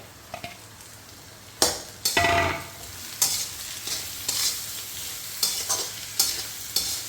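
Chopped onions frying in a pan for a bitter gourd dish, giving a steady sizzle and periodic scraping strokes of a spatula stirring them. The strokes come at intervals of about a second, loud and close.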